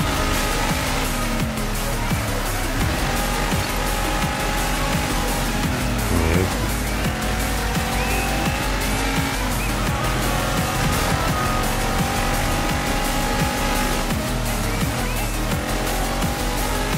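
Rally car racing in the DIRT 5 video game, a loud, constant engine roar with shifting revs, gear changes and occasional tire noise, heard continuously throughout.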